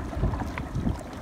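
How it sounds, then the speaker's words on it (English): Strong, cold wind blows outdoors in gusty, rumbling bursts that buffet the microphone. The low roar is loud and continuous, with no voices. "now it's really windy, it's cold."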